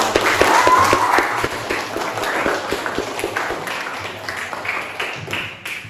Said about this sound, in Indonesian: kita berikan aplaus dulu semuanya